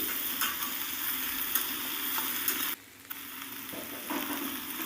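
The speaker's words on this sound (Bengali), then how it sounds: "ঢাকাটা খুলে দেখুন আলুটা প্রায় ভাজা হয়ে গেছে" Potatoes frying in oil in a pan, Bengali home cooking, give a steady close sizzle with scraping stir strokes, briefly quieter for a moment midway before the crackle resumes, no voices.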